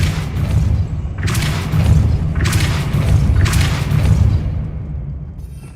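A Depulso spell blast in a Hogwarts video game, three rhythmic whooshing booms about a second apart over a steady low rumble, with no voices.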